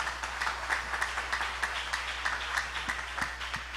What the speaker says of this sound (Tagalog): malalaman natin yan sa tunog ng palakpak ninyo para sa mahal na Panginoon